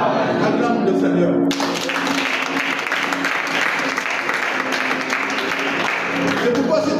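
A church congregation applauds and cheers, a loud, sustained wash of clapping and crowd noise that swells in after a short spoken opening and carries on steadily to the end.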